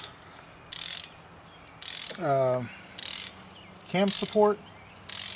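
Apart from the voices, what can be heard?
ratchet torque wrench tightening Audi valve cover bolts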